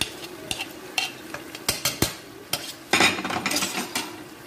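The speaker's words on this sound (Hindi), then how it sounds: "इसको हम अच्छे से मिक्स कर लेंगे" Chopped brinjal for baingan bharta is mixed in a pan, with sharp spoon knocks and scrapes at an uneven rhythm, close and fairly loud, over a faint sizzle and no talking.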